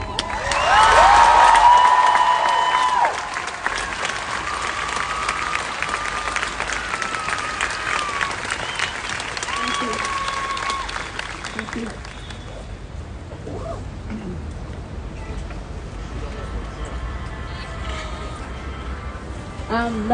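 Applause and cheering ring out from a crowd at a Black Lives Matter protest in Auckland, loudest in the first few seconds and then fading to scattered clapping under distant voices and outdoor murmur.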